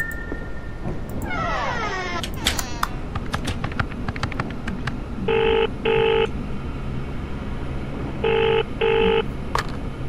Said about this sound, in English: Oh, I can hear a phone.